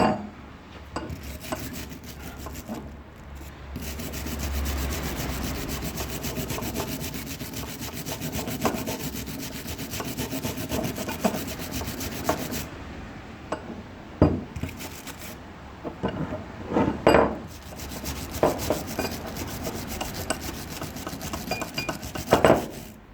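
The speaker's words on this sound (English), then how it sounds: "the wire brush is getting the worst of it off" Wire brush scrubbing rust off an old record vise, a steady close scratchy rasping of bristles on metal with a few sharper scrapes and knocks toward the end; no talking.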